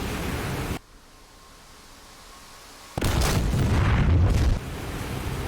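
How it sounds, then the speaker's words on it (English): A bomb dropped from a Bf-109 in DCS World bursts on an open field: a steady engine-like hiss drops away, then a loud broadband roar hits and rumbles for about a second and a half before fading back. "I'm just going to bomb a field here."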